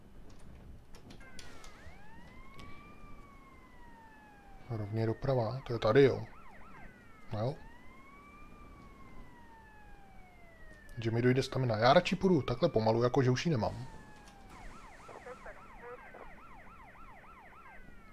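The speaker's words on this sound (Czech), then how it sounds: "co jedou 5 metrů za mnou a mají zaplý sirény" Police sirens from pursuing cars in GTA Vice City, wailing rising and falling tones that carry on through most of the stretch, with louder bursts of other game sound and someone talking over them.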